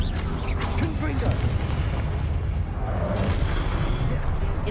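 A Confringo blast spell in Hogwarts Legacy sets off heavy, booming explosive bursts over constant rumbling battle noise, with a voice calling out in the mix.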